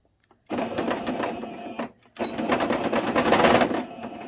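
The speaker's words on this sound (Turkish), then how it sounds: "Bu şekilde komple dikeceğim. Çünkü bir daha üst kısma lastik geçirilmeyeceği için bu devreyi komple dikiyorum." A sewing machine rattles in two close, steady bursts, stitching 2 cm elastic into the waistband of a child's skirt, with a short pause between the runs.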